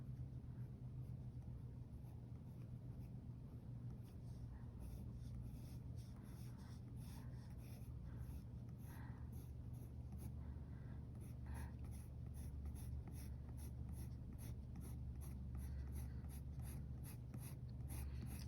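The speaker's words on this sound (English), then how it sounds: "I just love the sound of the pencil hitting the paper." A pencil scratches and rubs steadily across paper while someone sketches a portrait, quiet and close, in a soft continuous rhythm of strokes. No one speaks.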